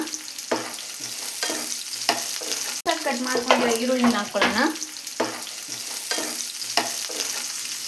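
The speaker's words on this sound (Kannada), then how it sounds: "ಈರುಳ್ಳಿ ಬೆಳ್ಳುಳ್ಳಿ ಎಲ್ಲ ಚೆನ್ನಾಗಿ ಫ್ರೈ ಮಾಡ್ಕೊಳ್ಳಿ." Sliced onion and garlic sizzling in a pan while being stirred, a steady close frying hiss broken by regular scraping spatula strokes and a brief louder burst of spitting oil.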